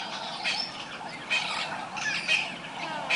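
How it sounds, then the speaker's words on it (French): Loud, harsh monkey cries call out a few times amid a dense, noisy forest backdrop, the calls rising briefly above the steady ambience. "Au loin, les cris d'un singe signalent sa présence."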